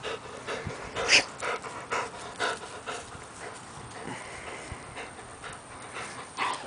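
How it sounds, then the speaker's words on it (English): Happy puppies panting close by in quick, rhythmic bursts of breath, with a few louder huffs and faint snuffles, and no talking. "These are happy puppies"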